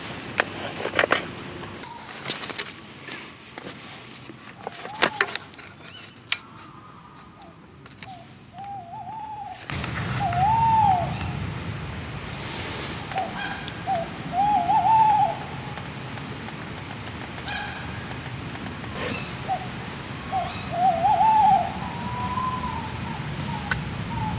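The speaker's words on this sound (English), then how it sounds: "You can hear all the owls going." Owls hoot repeatedly in the distance at night on a fishing trip, several wavering calls rising and falling over a low outdoor rumble, with a few faint clicks early on.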